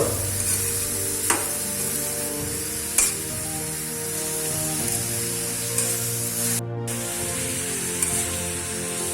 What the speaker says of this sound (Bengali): শাকটাকে এভাবে নেড়েই যাব যতক্ষণ পর্যন্ত এটা ভাজা ভাজা হবে না